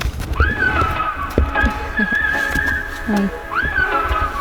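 Horses on a farm orchard near a fenced hay bale give rising-and-falling whinnies over soft, scattered hoof thumps, close by and moderately loud.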